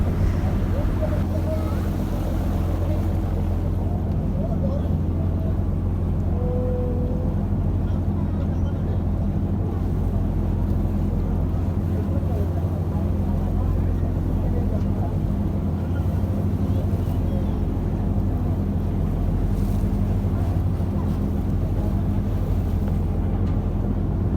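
A boat engine drones low and steady at a river ferry ghat, a continuous near rumble with light wind buffeting and faint background activity running throughout.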